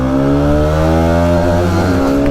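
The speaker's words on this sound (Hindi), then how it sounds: "भाई बाइक ही नहीं खींच पा रही है भाई" A motorcycle engine labours and revs hard on a climb between Kargil and Leh in Ladakh. The loud, steady drone holds a strained pitch, then dips and wavers near the end as the bike struggles to pull.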